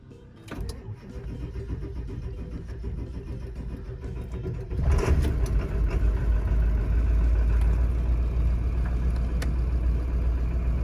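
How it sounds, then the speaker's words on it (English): A 2000 Ford Excursion with a 7.3 Powerstroke diesel cranks and fires up, settling into a loud, steady diesel idle that rumbles close by, with a few clicks and thumps before the start. "So here's going to be the startup, and we'll let her idle for 10-15 minutes"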